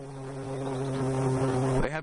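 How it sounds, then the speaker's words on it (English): A bee in flight gives a loud, steady close-up buzz with a strong tonal hum that holds for about two seconds, then wavers and fades as it moves off. "Bee flight is a combination of sheer muscle power and refined technique."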